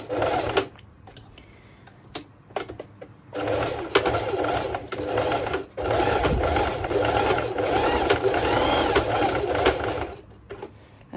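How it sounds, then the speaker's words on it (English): Sewing machine stitching a back-and-forth zigzag stitch on a triangle bikini top, several loud runs of rapid mechanical chatter separated by brief pauses and clicks, with faint talking in the gaps. "I just did a back and forth zigzag stitch"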